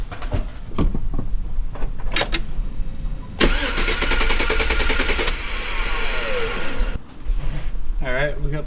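A 2007 Chevrolet Silverado engine cranks during a compression test with the gas pedal floored in clear flood mode, a loud, steady starter churn running for several seconds, with some background noise around it.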